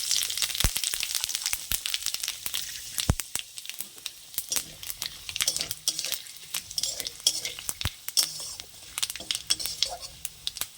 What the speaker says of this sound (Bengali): তো ওই তেলের মধ্যে আমি কিছু গোটা মশলা ফোড়ন দেব